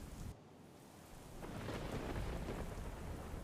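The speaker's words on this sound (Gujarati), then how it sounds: "લાઠી શહેર અને આસપાસના ગામડાઓમાં વરસાદ વરસ્યો છે" Heavy rain pours down in Lathi town, Amreli, a steady dense hiss of drops on surfaces, with low rolling thunder rumbling beneath and swelling midway; no voices.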